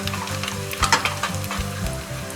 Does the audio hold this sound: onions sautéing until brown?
yes